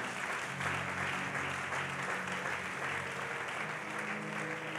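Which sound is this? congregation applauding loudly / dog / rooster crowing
congregation applauding loudly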